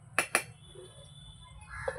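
A lid is set back onto a cooking pot of simmering meat curry, two quick metallic clinks close together near the start, then quiet kitchen background with a faint soft knock at the end.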